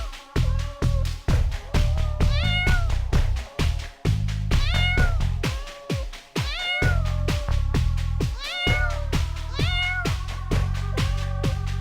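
A beige cat meows in several short, rising cries, spaced out over loud, thumping dance music that plays throughout.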